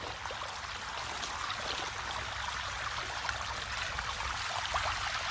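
Water gushes steadily from the outlet of a gravity siphon draining a backyard pond, a continuous close rushing flow with no talking.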